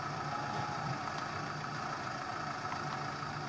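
A small tractor idles in Farming Simulator 2014, giving a steady, even engine hum with a low droning tone that holds unchanged throughout, moderately loud with no other sounds.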